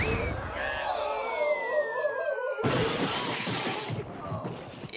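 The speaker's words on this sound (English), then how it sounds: "It's a man being shot out of a cannon." A cartoon sound effect of a man shot out of a cannon: a rising, falling whistling sweep followed by a sudden loud, noisy burst that trails off, with no talking.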